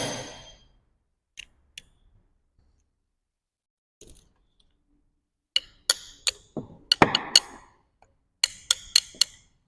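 A metal generator part is tapped with a tool in sharp, isolated clicks and knocks, sparse at first, then quickening into a cluster of crisp taps, close and fairly quiet with no talk.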